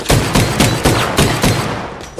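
Rapid gunfire rings out in a John Wick 4 action scene, about eight sharp, loud shots in an uneven burst, close and dominant.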